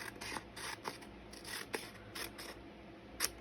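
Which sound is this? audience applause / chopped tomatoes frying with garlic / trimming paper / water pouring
trimming paper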